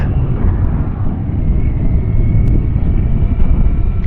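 A big-engined 2025 BMW K1600GT touring motorcycle at speed gives a loud, steady engine drone blended with constant wind rush and no breaks.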